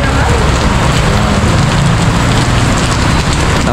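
Heavy rain pours steadily, loud and close, a dense unbroken roar of drops hitting surfaces throughout.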